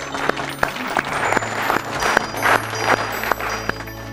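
Audience applause at a stage event for the Gyana Guru TV programme: a crowd claps steadily for about four seconds, with sharp individual claps standing out over a continuous patter, fairly loud and close, with no talk.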